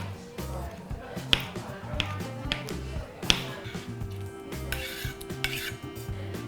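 Cocktail cherries chopped finely with a knife on a board, a run of quick close taps and knocks of the blade, uneven in rhythm, over faint background music.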